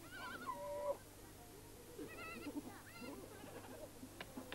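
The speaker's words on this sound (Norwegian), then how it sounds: "Skolens geiter streifer rundt i dalen på jakt etter saftige blad fra de tørre tornebuskene." Goats bleat in a dry valley where a school's herd roams among thorn bushes, a few wavering calls at moderate distance over steady outdoor background noise, with a faint voice briefly audible.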